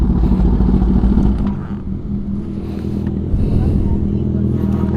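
Kawasaki Ninja ZX10RR sport motorcycle rumbling close by, a deep, loud engine drone that dips briefly then swells again, with light clatter on top and people speaking over it.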